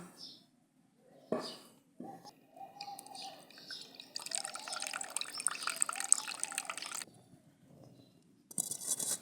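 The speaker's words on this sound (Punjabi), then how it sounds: "ਇਸ ਤਰ੍ਹਾਂ ਇਹਨਾਂ ਦਾ ਪਾਣੀ ਕੱਢ ਦਿਆਂਗੇ" Water drains and splashes from a container of soaked soybeans for a few seconds, with small drips and handling noises before and after; a voice speaks briefly.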